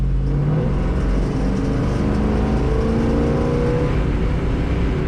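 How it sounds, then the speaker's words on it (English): Exhaust of a 1955 Chevrolet 150 Handyman Wagon, a loud, steady engine drone while cruising on the road, with a rising pitch as the car accelerates and no voices. "Really nice sounding exhaust in this car."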